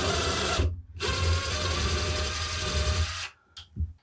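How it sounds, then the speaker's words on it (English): A small drill spins a 1/8 inch bit to bore a pilot hole while a sling swivel is fitted to a Ruger takedown survival rifle. The whir is steady and close, with a short pause early on, and it stops near the end after a couple of brief bursts. "with the 1/8 inch drill bit, I'm just going to concentrate on making a straight hole"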